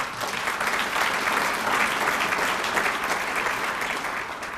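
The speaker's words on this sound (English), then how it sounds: "I think that deserves an applause." Sustained applause from an audience at a business growth council meeting, a dense even patter of many hands clapping at steady volume for several seconds.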